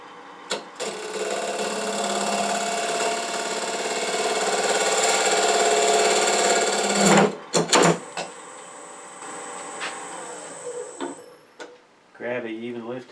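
A wood lathe spins a long blank on a tool rest at 10,000 RPM, giving a loud, steady mechanical whir with cutting noise for about seven seconds, then stopping abruptly; brief clunks and a quieter hum follow, with a short tonal burst near the end.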